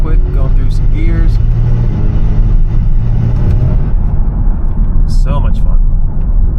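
A Kia Stinger with stock exhaust rumbles loudly from inside the cabin as it accelerates, the engine note climbing and dropping through gear changes while someone talks over it.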